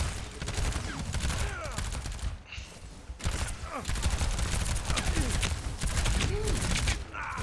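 Baptiste's weapon firing in the video game Overwatch, rapid continuous bursts of gunfire with brief gaps, layered with game effects and a voice talking underneath throughout.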